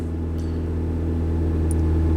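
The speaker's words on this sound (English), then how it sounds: "So even though I'm revving the engine" A car engine running under load during cooling system and thermostat testing gives a steady, loud, tonal drone with strong low harmonics, holding a constant pitch for about two seconds.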